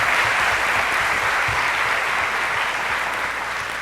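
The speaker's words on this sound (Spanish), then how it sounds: "Un aplauso también para ella." An audience at a parents' school panel discussion gives sustained, dense applause to a speaker, loud and continuous throughout, slowly easing toward the end.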